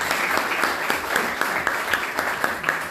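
An audience at a press conference gives Antonio Mercurio a round of applause. The steady, dense clapping of a sizable crowd carries at an even level for the whole stretch, and no clear speech rises above it.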